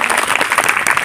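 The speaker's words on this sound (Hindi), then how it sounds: "चलिए जोरदार ताली।" Enthusiastic applause from an audience cheering a student at a children's program, a dense continuous patter of clapping hands, loud and close throughout the short burst with no speech.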